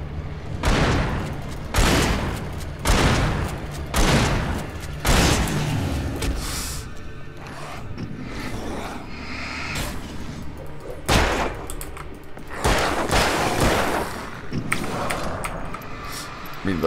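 Repeated loud bangs and blasts in the horror action game Alan Wake, sharp explosive bursts every second or so, then a quieter stretch before more heavy bangs, with a voice briefly heard.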